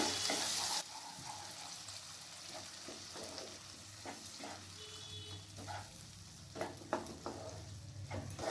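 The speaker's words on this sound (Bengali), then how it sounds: "বেসনটা নিচে লেগে যাবার সম্ভাবনা থাকে, তাই আমি এখানে সামান্য জল দিয়ে দিলাম। এরপর একটু নাড়াচাড়া করে নিচ্ছি।" Besan with a little water being stirred in a pan for matar paneer curry, a quiet, steady sizzle with scattered soft scraping strokes, faint and close, with no talking.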